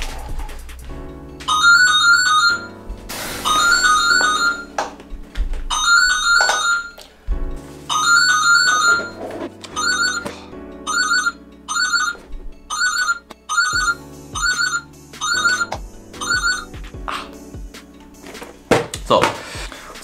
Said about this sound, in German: Und jetzt klingelt das Telefon